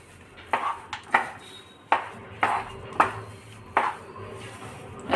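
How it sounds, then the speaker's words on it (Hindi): A spoon scraping and clinking against a pan while upma is mixed with lemon juice, about eight sharp metallic taps and scrapes at an uneven rhythm, close and clear with no talking. "और इसको अच्छे से मिक्स कर लेंगे"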